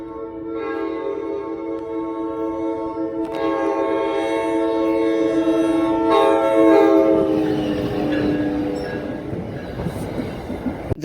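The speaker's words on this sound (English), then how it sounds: "here is a sample of the ALP-46's horn," An NJ Transit ALP-46 electric locomotive sounds its K5LA air horn in a long, loud, sustained multi-tone chord that shifts partway through, with rail rumble building underneath toward the end.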